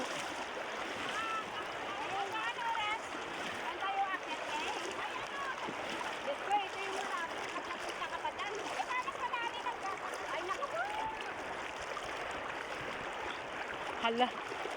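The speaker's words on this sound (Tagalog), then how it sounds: "Ang ganda ng ilog namin dito" A clean, warm river flows in a steady, broad rush that stays close and even throughout, with people talking over the water.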